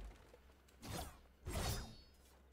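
A katana in Fortnite smashes through built structures, giving two quick, faint crashing swipes about half a second apart with a light shattering edge.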